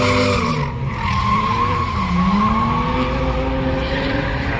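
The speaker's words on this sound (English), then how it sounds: "He spun, so the Corvette gotta stop." A Corvette race car spins out on track, its tires skidding in a loud, sustained squeal over heavy engine roar, continuous and close for the whole stretch.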